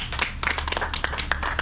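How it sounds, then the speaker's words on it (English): A few people clap to welcome a state official at a county announcement, with brief, scattered, irregular hand claps at moderate volume. "If you all could give him a round of applause at this time."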